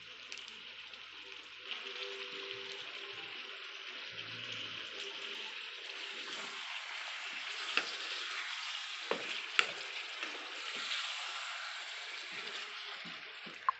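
Chicken and pineapple stir-fry sizzles softly in a pan with oyster sauce as it is stirred, a steady close frying hiss broken by occasional scrapes and clinks of the utensil.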